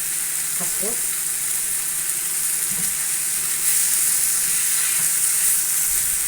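Shrimp sizzling and frying in a pan, a steady bright crackling hiss throughout, close and loud, with brief speech near the start and occasional stirring clatter.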